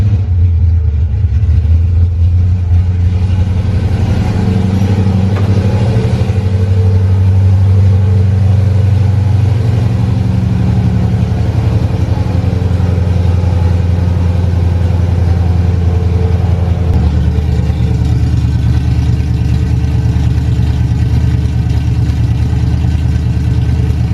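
Classic Ford Mustang with a swapped Coyote V8 and new exhaust, running loud and steady close by, with the engine note rising and falling as it revs before settling back toward idle.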